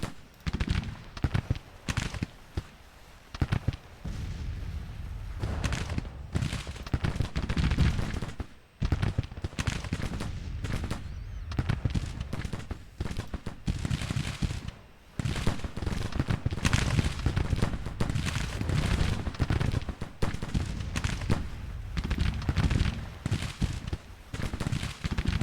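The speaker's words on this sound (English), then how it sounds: "One of the few battles I actually get all my brigades firing at the same time." Massed musket volleys from Civil War brigades in Grand Tactician, a dense, continuous crackle of gunfire with heavier booms, loud and sustained for the whole stretch with brief lulls.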